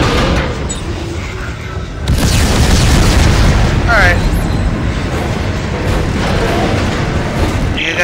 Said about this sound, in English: You gotta shoot these cannons at the, monsters.